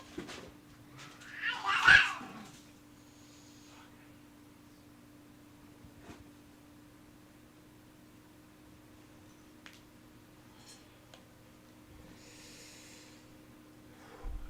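A cat sounds off near the start, a brief, loud vocal burst around two seconds, then only faint scattered noises over a quiet room hum, with no talking.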